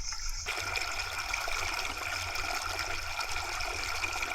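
A jungle stream rushes continuously nearby, a steady, loud wash of flowing water with no voices.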